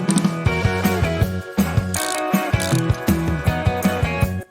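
A small wrench ratcheting Allen bolts tight in a crossways pattern on a full-suspension mountain bike e-bike conversion, with quick rhythmic clicking bursts repeating close up and short pauses between strokes.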